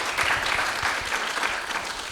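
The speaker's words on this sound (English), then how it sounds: "let's give them one more round of applause" Audience at a political roadshow in Ruston giving speakers a round of applause, a continuous burst of many hands clapping at full strength throughout.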